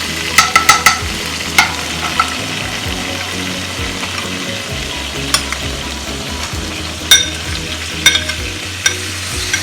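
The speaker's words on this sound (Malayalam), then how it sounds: "ഒരു ടീസ്പൂൺ കൂടി നെയ്യ് ഇതിട്ടിട്ട് ഒന്ന് ചൂടായി വരുമ്പോഴത്തേക്കും നമ്മൾ നേരത്തെ അരച്ചു വെച്ചിരിക്കുന്ന ആ മസാല നമുക്ക് ആഡ് ചെയ്യാം" Ground masala for a Mangalorean-style prawns ghee roast frying in hot ghee in a pan: a steady loud sizzle with scattered metallic clinks and scrapes from stirring, a quick cluster at the start and more spread through.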